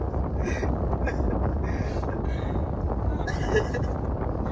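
Wind blows steadily outdoors in Kuwait, a constant rushing roar buffeting the microphone throughout, with faint voices now and then.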